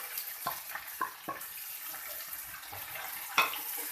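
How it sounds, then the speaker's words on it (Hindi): Water is poured into a cooking pan, a soft splashing flow with a few sharper clatters and bumps of utensils, close and fairly quiet. "साथ ही मैं इसके अंदर डाल दूंगी थोड़ा सा पानी।"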